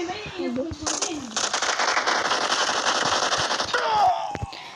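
Rapid bursts of gunfire from the battle royale video game PUBG crackle loudly and almost continuously through the middle of the clip, with a player talking over them.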